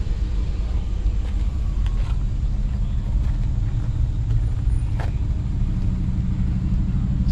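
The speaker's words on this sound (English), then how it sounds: "So we got an M62 powered 840, and he is on his way out." BMW 840 with an M62 V8 pulling away at a cars and coffee meet in Nashville, a steady low engine rumble that stays loud and close throughout, with no talking.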